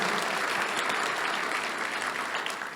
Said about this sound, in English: how about another round of applause for Teresa for putting together this record evening?